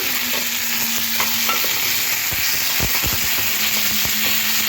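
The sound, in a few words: vegetables and turmeric powder being stir-fried in a pan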